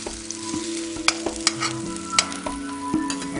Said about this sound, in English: while the little fish cakes are cooking